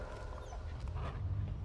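A dog in the video game INSIDE pants and whimpers, a soft, breathy, continuous sound at moderate distance with no talk over it.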